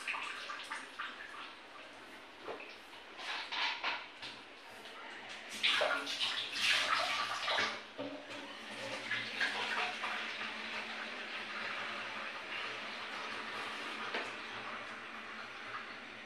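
Water from a tap under strong pressure fills a container with a steady, splashing rush that swells midway and continues, while a voice talks faintly in the background.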